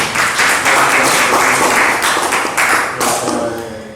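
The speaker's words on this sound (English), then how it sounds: "let's clap for them" Close, loud clapping from a community workshop group in Nairobi after voting ends, dense hand claps with a few voices mixed in, tapering off at the end.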